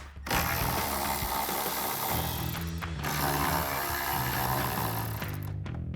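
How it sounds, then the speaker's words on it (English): Close, rapid ratchet clicking from a wrench with a 10mm socket backing off taillight nuts on a 2024 Mustang, a steady mechanical pawl chatter running nearly the whole time with no voices. "Remove those with the 10mm socket as well."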